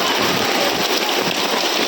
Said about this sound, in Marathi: म्हणजे पाऊस तर आहे